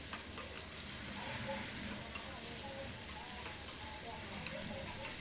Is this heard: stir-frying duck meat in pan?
yes